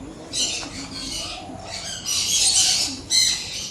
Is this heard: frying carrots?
no